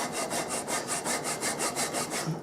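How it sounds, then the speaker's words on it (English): A fine-toothed hand saw cuts a quarter-inch kerf into wood while making a coffin plane, with even back-and-forth rasping strokes about five per second, close and steady with no talk. "This blade is probably a little too fine for this, but it's only a 1/4 inch cut."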